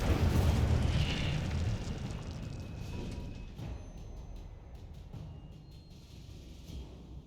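The Incendio fire spell is cast in Hogwarts Legacy, a loud fiery whoosh and rumbling burst that gradually fades over several seconds into softer crackling ambience.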